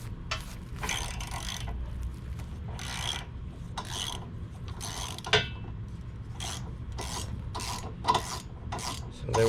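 A ratchet loosening base plate bolts for a tow package, a run of rhythmic rasping clicks in short bursts with a few sharper knocks, close and alone.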